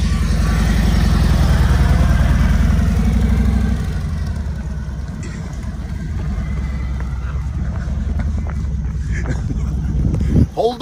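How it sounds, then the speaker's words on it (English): A 2020 Harley-Davidson Road Glide Special with a 114 engine and Chromeworks Eclipse Black Chrome exhaust running on a dyno: loud, deep rumbling engine with strong low pulsing, easing from a higher rev to a steadier idle. "That's actually the exhaust that's going on the bike, the Chromeworks Eclipse Black Chrome."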